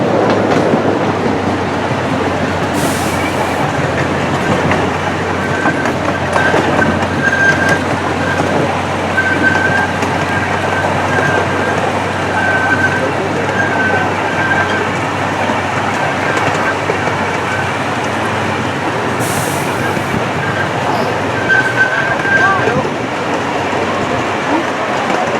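An amusement park train at Knoebels Amusement Resort in Elysburg, Pennsylvania rolls steadily along its tracks with continuous loud rumble and clickety-clack, brief wheel squeals now and then, heard close for the whole ride.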